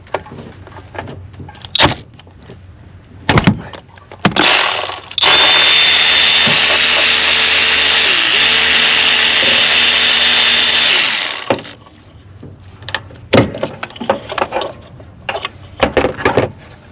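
A power tool whirs steadily for about six seconds, loud and close, while spark plugs come out of a 2005–2010 Honda Odyssey 3.5 V6 VTEC engine, with scattered clunks and handling knocks before and after.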